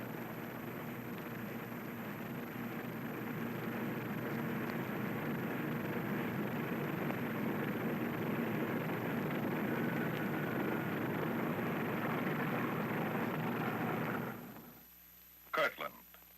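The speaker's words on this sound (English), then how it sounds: "The bomber ready, it moves off to wait its takeoff time under double guard." A bomber aircraft taxis toward takeoff, its engines giving a steady droning roar that holds for most of the stretch before fading abruptly near the end; a narrator speaks over it.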